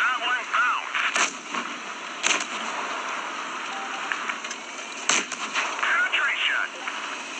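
Tank cannon shots in the mobile game World of Tanks Blitz, several sharp bursts spread across the clip over a steady engine and battle hum, with a voice talking over the game.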